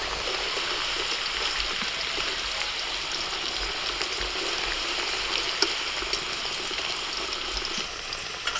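Potatoes frying in oil in a wok during mutton biryani preparation give a steady, soft sizzle with a fine crackle, a continuous hiss at moderate level with no talk.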